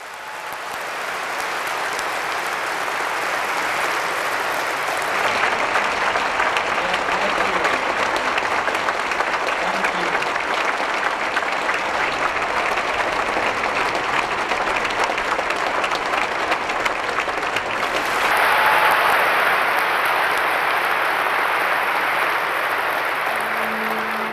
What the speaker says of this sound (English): give him a great round of applause